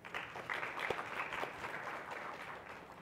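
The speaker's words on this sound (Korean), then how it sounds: "큰 박수 부탁드립니다." Audience applause for a presenter at a Korean Python IoT talk, a steady patter of many hands at moderate distance lasting about three seconds, fairly faint with no voices over it.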